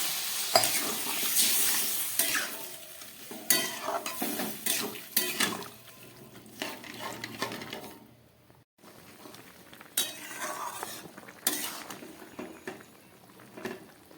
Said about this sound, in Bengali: ডাঁটা পোস্তটা ফুটে উঠেছে